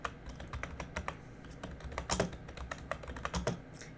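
Computer keyboard typing while a recruitment application form is filled in: quick, irregular bursts of key clicks, close and fairly quiet, with no talk over them.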